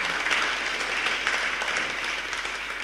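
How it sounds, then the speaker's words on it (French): Audience applause at a corporate awards ceremony; a dense, steady wash of clapping from a crowd, fairly loud and continuous with no talk over it. "je crois qu'on peut l'applaudir"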